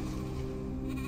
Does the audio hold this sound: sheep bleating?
yes